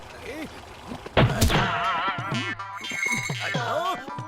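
A sharp kick lands on a car jack with one loud metallic thunk and a brief ring, followed by cartoonish boing-like sound effects and voices talking over it.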